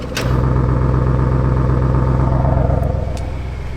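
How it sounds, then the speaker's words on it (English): Audi Q7 engine idling steadily with the exhaust valves opened in RS mode, a loud, close, continuous low rumble holding constant for several seconds without revving. "I'm going to open up the exhaust and this is as loud as it's going to get"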